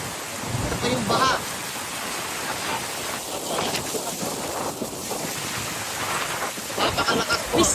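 Heavy rain and rushing floodwater during a storm in Lipa City, a dense continuous wash of water noise with gusty wind buffeting the microphone, steady and close throughout.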